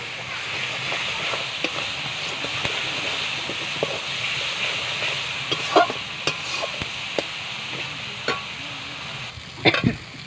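Ginger, garlic and dried chilli paste sizzling with chicken in a pot over a clay stove, a soft continuous fry with frequent stirring scrapes and clinks, some faint talk in the background.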